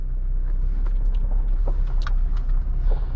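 A 2021 Jeep Wrangler Rubicon drives on the road, heard from inside the cabin as a steady low rumble of engine and road noise with a few faint clicks and rattles.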